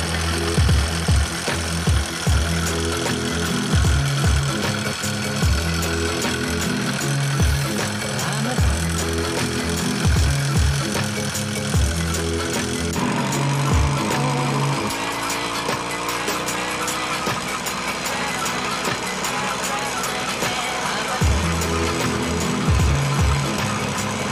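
A motorized bicycle's small gas engine putters and knocks through a ride, a loud, close, uneven chugging that revs, dips and shifts pitch, with rattling bursts and wind rush running throughout.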